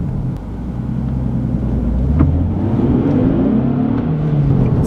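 A 2017 Nissan 370Z sports car with a manual gearbox, its engine droning and building steadily in a low rumble heard from inside the cabin, with no talking.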